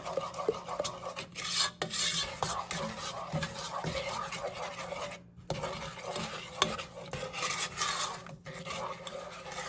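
A utensil stirs and scrapes butter melting in a pan at the start of a salted apple cider caramel, soft repeated scraping and rubbing strokes with light clinks, fairly quiet and close.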